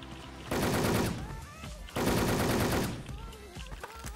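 Two long bursts of automatic gunfire in the shooter game Wolfteam, loud and close, each lasting about a second, separated by a short gap and followed by a few scattered single shots.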